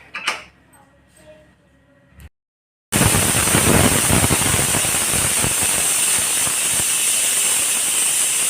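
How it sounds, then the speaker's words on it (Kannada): Pressure cooker on a low flame releasing a loud, steady jet of hissing steam with its whistle, starting abruptly after a short quiet pause and continuing unbroken. "ಸಣ್ಣ ಉರಿನಲ್ಲಿ ನಾವು ಒಂದು 5 ವಿಜಿಲನ್ನು ಬರೆಸ್ಕೊಂಡ್ರೆ ಸಾಕಾಗತ್ತೆ"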